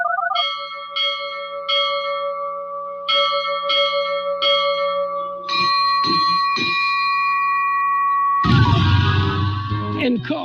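A ship's bell chimes on a radio broadcast in a rhythmic series of clear, tonal strikes, pausing and resuming, before a louder burst of noise cuts in near the end.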